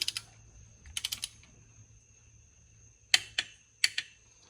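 A click-type torque wrench snaps on the wheel bolts of a 2004 Scion xB, giving crisp clicks in short bursts of two to four with quiet pauses between them.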